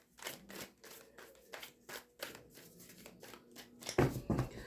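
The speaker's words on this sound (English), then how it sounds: "Get you some good shuffles in, nice three-way split" Tarot cards being shuffled by hand in a quiet room, a series of soft riffling bursts with short pauses between them, ending with two louder, closer shuffles.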